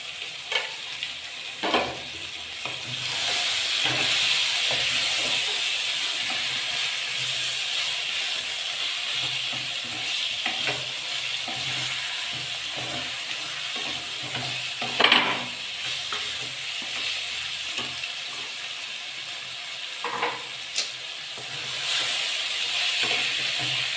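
Mutton pieces and salt hit a pan of already fried onions and sizzle loudly and steadily, with occasional scrapes and clinks of stirring across a long continuous fry.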